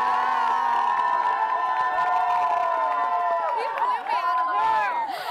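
A live studio audience cheers and shouts for a face-off challenge contestant, with loud, sustained high-pitched yelling and whoops, some clapping mixed in, swelling toward the end.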